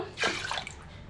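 Tamarind water splashes into a pan of Bombay chutney in one short, close pour.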